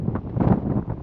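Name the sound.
strong wind on a mountain peak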